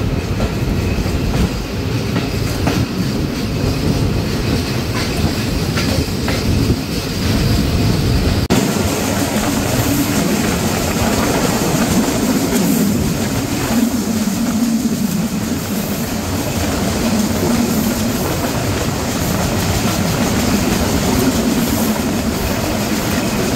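The Dhalarchar Express rolls slowly across a railway bridge that is still under construction. A loud, steady rumble carries on throughout, with wheel clatter, metallic rattling and faint squeals, and no voices.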